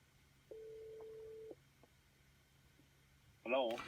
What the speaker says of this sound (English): The phone is coming through the car speakers.